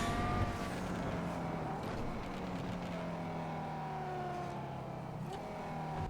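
Banshee sports car in GTA Online, engine droning at a steady pitch that climbs and drops with gear changes across several shifts, moderately loud and continuous, with no talking.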